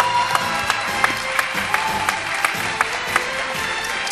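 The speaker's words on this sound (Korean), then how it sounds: "큰 박수 부탁드립니다." An audience at the ADT Caps Player 2013 baseball defensive award ceremony gives sustained applause, a steady wash of clapping marked by sharp accents at a regular beat.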